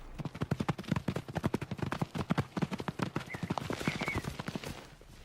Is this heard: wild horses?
yes